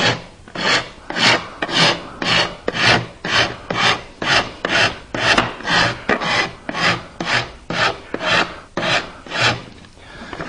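A wood rasp rounds over the corners of a wooden knife caddy, with about twenty rhythmic, even back-and-forth rasping strokes, close and loud, and no talking.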